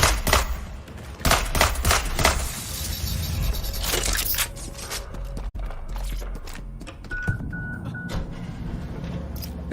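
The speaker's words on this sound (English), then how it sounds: "Someone's shooting." Gunfire in Watch Dogs Legion: rapid bursts of automatic fire and single shots, loud and close at first, then a sharp crack and sparser pops fading amid scraping game noises.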